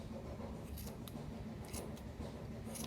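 Quiet, close snips of scissors cutting yarn loops come in a few short bursts over a soft rustling background.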